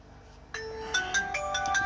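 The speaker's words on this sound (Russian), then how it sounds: "звонят, сейчас отвечу" A phone ringtone for an incoming call starts abruptly after a half-second hush and plays a bright, repeating electronic melody, near and clear with no talk over it.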